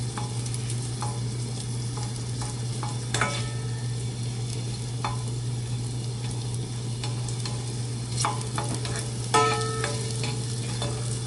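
Cooking oil sizzling in a pan while food is stirred, a steady frying hiss with scattered scraping and clinking of the utensil, a constant low hum underneath, no talk.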